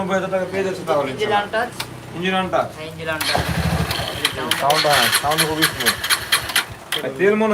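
A used motorbike engine starts and then runs smoothly, loud and close, with people talking over it throughout.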